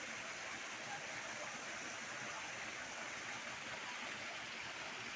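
Water from the Peeli Hatha Ella waterfall pours down in a constant, even hiss and rush that stays soft and unbroken throughout, with no one speaking.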